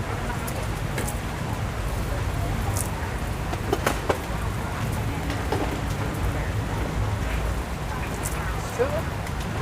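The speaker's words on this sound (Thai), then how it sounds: "พี่จะไปไหนได้ข้างนอกฝนตก" Steady rain falls outside a roadside food stall in Thailand, a soft continuous patter with occasional sharper drips and knocks, at moderate loudness.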